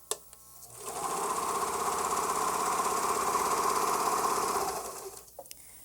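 Serger sewing machine running a plain serged seam with the lower looper being tightened toward a rolled edge: a steady close mechanical whirr for about four seconds, starting and stopping cleanly with faint clicks around it.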